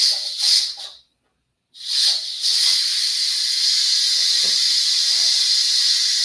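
Steam hissing from an Instant Pot quick pressure release while cooking shoyu chicken: two short bursts, a brief silence, then a loud, steady, continuous hiss.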